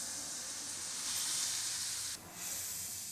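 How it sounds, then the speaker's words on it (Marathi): A glass of water poured into hot fish masala in a pan sets off a loud, steady sizzling hiss that briefly dips near the end before surging again, with no voices. "आता आपण याच्यामध्ये पाणी टाकून घेऊ 1 गिलास"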